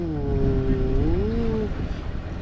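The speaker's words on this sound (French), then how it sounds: "j'ai des sautes de régime moteur. Alors le moteur fait ouh." A boat's diesel engine hums steadily, its revs rising and falling in an uneven surge before settling, loud and close.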